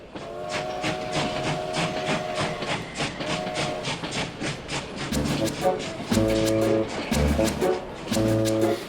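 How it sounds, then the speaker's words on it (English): Rhythmic clickety-clack of a train moving along the rails, with hissing and a steady rumble, and bursts of tonal sound over it. "200 miles in a rickety train"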